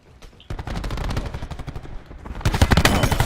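Rapid automatic gunfire in an online Call of Duty League match, with dense bursts of loud, close shots that rattle on almost continuously and swell even heavier near the end.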